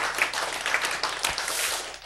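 Congregation clapping during a church sermon: a steady, dense patter of many hands held at an even level for about two seconds, with no voice over it.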